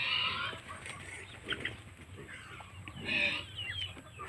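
Pet chickens clucking and pecking in an outdoor enclosure, with soft clucks scattered across the clip and two brief louder bursts near the middle and end over a low, steady ambient hum.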